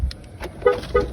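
Two short car horn toots in quick succession, close by, from a 2015 Ford Focus Trend X, over a low engine rumble.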